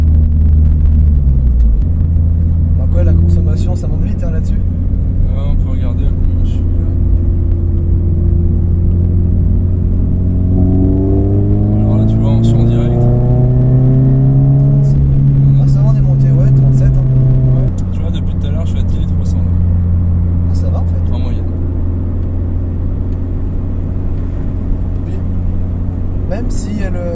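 A Toyota GT86 TRD car drives with its engine rumbling loudly and steadily, revs rising in pitch mid-way then dropping back, with a person talking over the engine noise.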